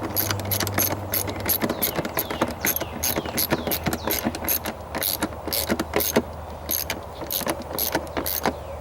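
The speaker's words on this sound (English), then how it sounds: "This time we will be putting this screw all the way in." A screw driven into a plastic GM air filter housing on a Traverse, Acadia, Enclave or Outlook, giving a steady run of close, sharp ratcheting clicks over a low hum.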